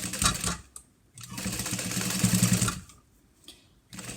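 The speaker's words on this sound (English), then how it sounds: "I'm gonna try to hold that zipper down while see, it moved already, while my walking foot tries to climb over it." A sewing machine with a walking foot stitches across a zipper on a small fabric wallet, making close mechanical whirring runs that start and stop, with brief quiet gaps between them.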